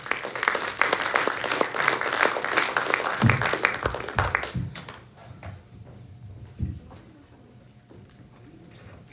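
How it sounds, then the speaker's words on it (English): An audience claps during a Shark Tank-style pitch event at the Artcraft, a dense round of applause for about five seconds that thins into a few scattered claps and near silence. "Give them a round of applause."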